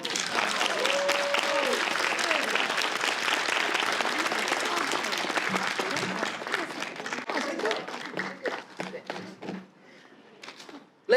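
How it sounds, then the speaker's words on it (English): Warm applause from the audience at a literary competition reception fills the room, steady and dense, with a voice rising faintly through it before the clapping thins into a few scattered claps at the end. "Let's give another warm round of applause for Journey"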